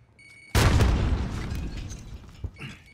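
A grenade explodes in Call of Duty: Modern Warfare, a sudden loud close boom that rolls into a long rumbling decay, with a smaller thump following near the end.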